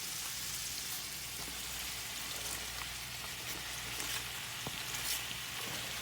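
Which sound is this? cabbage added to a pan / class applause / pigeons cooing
cabbage added to a pan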